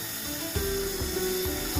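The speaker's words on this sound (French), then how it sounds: "tenez bien votre perceuse parce que ça donne quand même des bons à-coups" An electric drill with a rust-removing attachment grinds steadily against a scrap metal piece, a loud continuous whine with periodic jolts and pitch dips as the tool catches, no talk.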